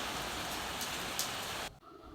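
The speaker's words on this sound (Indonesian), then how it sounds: "pagi hari ini diawali dengan itu tadi ya, hujan ya" Steady morning rain pours down in a dense, even hiss with a few louder drops, then cuts off abruptly near the end.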